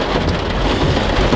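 Steady, dense hiss of rain with a low rumbling undertone, like a thunderstorm over Île-de-France, loud and continuous without any voices.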